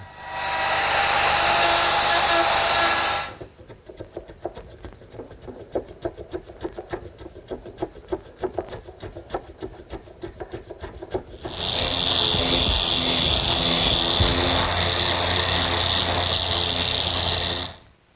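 A router fitted with a 3/4-inch round over bit cutting wood, two loud, sustained screaming cuts separated by a stretch of rapid ticking as the motor spins down and back up, close and with no voices.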